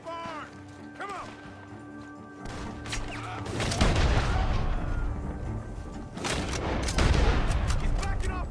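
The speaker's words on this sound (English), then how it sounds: "The gunshots are coming from that barn." Gunfire from inside a barn in the video game Red Dead Redemption 2: a fusillade of repeated sharp shots and crashing impacts over a low background, growing louder and denser toward the end.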